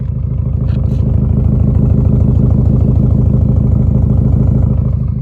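Subaru Outback XT turbo fitted with a cat-back performance exhaust, holding a steady, deep rumble at idle, loud and close throughout with no one speaking.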